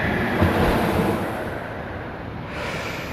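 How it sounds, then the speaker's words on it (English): Ocean surf off Maui, Hawaii, rushes in a continuous broadband wash, loud and near, with wind buffeting the microphone and a slight swell and ebb of the breaking waves, no voices. "the sound of the ocean"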